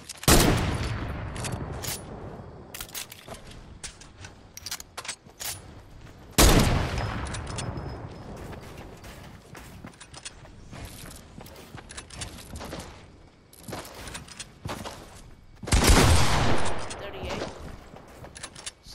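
Shotgun blasts in a video game fire in sharp bursts with heavy booms around 6 and 16 seconds, mixed with rapid clicks and clatter, while a voice talks over the action.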